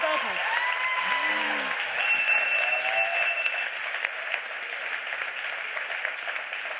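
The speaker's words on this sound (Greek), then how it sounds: "Παρακαλώ τα χειροκροτήματά σας." Audience applause at a comedy show, sustained even clapping from a crowd, with a few voices and whoops briefly rising over it early on.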